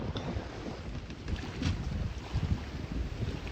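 Wind buffets the microphone with low rumbling gusts over the steady rush of a sailboat moving through water at about 4 knots in 11 knots of wind, off Greece.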